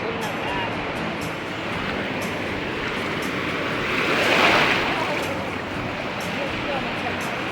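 Waves of the cold Pacific Ocean wash onto a beach as a steady broadband roar, swelling into one louder surge midway, with wind buffeting the microphone.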